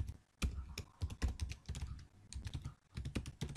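Rapid, uneven typing on a computer keyboard while a Node.js and Express app is coded, with close, crisp key clicks in bursts and short pauses.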